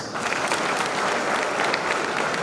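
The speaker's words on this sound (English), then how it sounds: "Can we have a great round of applause, please?" A crowd at a 108th Jayanthi Day celebration claps loudly and continuously, a thick, even wash of applause with no pauses from start to finish.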